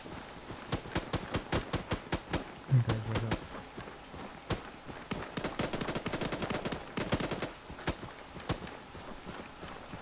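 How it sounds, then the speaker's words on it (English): Gunfire in the Arma 3 military video game during an infantry firefight: rapid, dense bursts of sharp cracks and short automatic volleys over ten seconds, with a brief gap midway, fairly close and loud. "taking a lot of fire."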